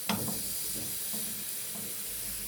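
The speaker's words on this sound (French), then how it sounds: "je vais mettre une louche de crêpes dans la poêle" Crêpe batter hitting a hot frying pan with a soft initial splat, then a steady quiet sizzle and hiss with faint scraping, no voices.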